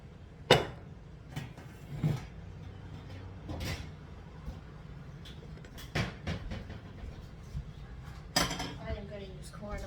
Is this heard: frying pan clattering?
yes